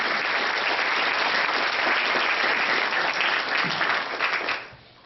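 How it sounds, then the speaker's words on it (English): Steady, close applause from a school audience after a senior speech, a dense wash of clapping that fades out at the end. "Yeah, clap for Coach Yee"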